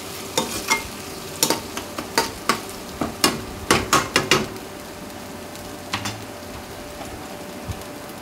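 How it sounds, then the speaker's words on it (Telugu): Ginger paste fries in a pan while a spatula stirs it, a run of sharp scraping knocks against the metal over a low steady sizzle, the strokes thinning out toward the end. "పేస్ట్ పచ్చివాసన పోయే వరకు ఈ విధంగా ఫ్రై చేసుకోవాలండి"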